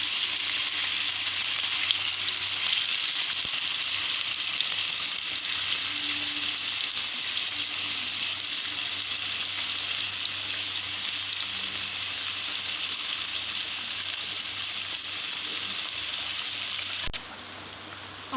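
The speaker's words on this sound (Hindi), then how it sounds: "आलू जो है फ्राई हो गए हैं।" Potato pieces frying in salted cooking oil in a pan, a steady, dense sizzle that holds evenly throughout with no talking, ending with a faint clink near the close.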